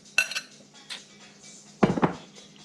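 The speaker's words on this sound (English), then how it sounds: "I'm putting the 1 pound of browned ground beef in" Browned ground beef goes into a casserole dish in a home kitchen, with a few light clinks of a utensil against the dish, followed by a louder cluster of scraping knocks near the end.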